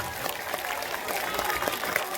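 A crowd at a political speech on the grounds of a veterinary college in Patna claps loudly and continuously, a dense wash of applause with voices mixed in.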